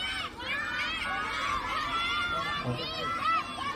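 Villagers and students cheer together at a village flag hoisting ceremony in Devgaon, a steady crowd roar of high shouts and chatter that stays loud throughout.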